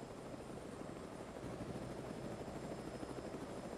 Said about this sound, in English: Helicopter, let's get you up in the air and doing some recon.